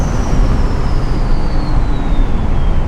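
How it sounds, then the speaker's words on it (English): A 6.0 Powerstroke diesel truck with a big turbo pulls under throttle, giving a loud, steady broadband rush of engine and road noise with a faint turbo whistle slowly falling in pitch. "now you just hear like a turbo"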